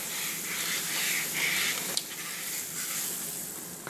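Butter sizzling in a hot pan as it is greased, a steady close hiss and crackle with no voices, briefly rising louder.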